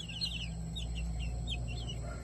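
A hen and her young chicks, with repeated high peeping chirps over a constant low background hum and soft clucking, close and continuous.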